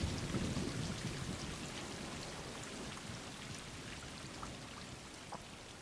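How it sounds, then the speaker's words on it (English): Steady rain pours through a night scene in the video game Stray, with a low rumble of thunder near the start, a continuous wash of raindrops and no voices. "Sleepy rainy night."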